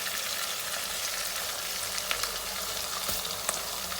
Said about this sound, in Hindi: ये 1 टेबलस्पून लहसुन का पेस्ट डाल दूंगी और इसको भी 2-3 मिनट के लिए इसको भी फ्राई करेंगे